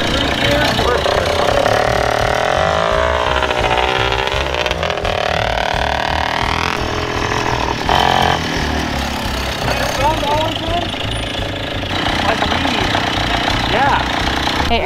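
A restored Golden Nugget LJ20 engine runs steadily and fairly loud throughout, a continuous idling rumble with slight rises in pitch, with no speech over it.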